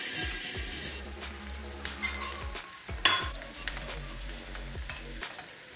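Cumin, green chillies, ginger and garlic fry over a medium gas flame, a soft sizzle punctuated by scraping stirs and clinks of a utensil against the pan, with a sharper knock near the middle.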